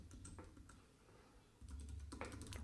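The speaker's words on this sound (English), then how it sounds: "So now I'm going to type in my text," Keys clatter on a computer keyboard while text is typed into a WordPress site, short bursts of close, crisp taps that grow busier and louder in the second half, with no voices.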